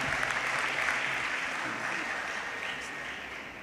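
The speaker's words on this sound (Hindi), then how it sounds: "आओ असी तालियां वजा के इन्हां फादरां दा धन्यवाद करांगे" Congregation clapping inside a Catholic church during a priestly ordination, a dense, even spread of applause that holds steady and slowly fades over a few seconds.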